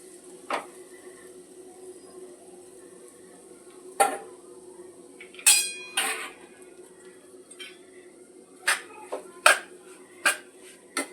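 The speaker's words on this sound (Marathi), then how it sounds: "आता हे एक किलो खारीक आहे म्हणजे आपल्याला थोडं थोडं भाजावं लागणार आहे परतून घ्यावं लागणार आहे" Dry dates stir-roasting in ghee in a kadai, a few sharp scrapes and clinks of a spatula against the pan at irregular intervals over a quiet background hum.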